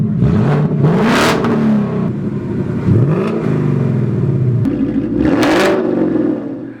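A 2019 Mustang GT engine with open dump exhaust revs repeatedly and loudly, several sharp throttle blips rising and falling with raspy crackle between them, close and alone.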